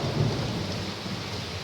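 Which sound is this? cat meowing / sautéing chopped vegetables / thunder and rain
thunder and rain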